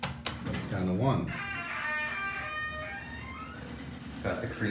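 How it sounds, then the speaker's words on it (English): An old creaky GAL door operator on an Edmonds hydraulic elevator in a Cleveland residential building, sliding the door with a long, close, wavering squeal and a mechanical thunk at the start and end. "Got the creaky GAL door operator."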